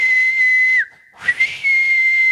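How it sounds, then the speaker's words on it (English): A ship's whistle blows a loud, steady high tone, briefly cuts out with a small sliding drop, then resumes with a couple of short bursts before holding steady again. "loud bells and whistles sounded."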